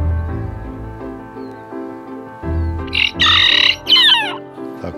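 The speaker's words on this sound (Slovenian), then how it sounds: "tle imamo enega predstavnika pasme Serama, kot smo rekli, najmanjša kura na svetu" A Serama hen, the world's smallest chicken breed, on a rural farm estate in Istria gives a few short, sharp clucks and squawks in the second half, close by, over a steady low background hum.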